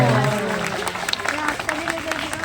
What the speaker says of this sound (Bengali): সবাইকে একটা অনুরোধ করবো, মানে জোরে করে একটা হাততালি দেওয়ার জন্য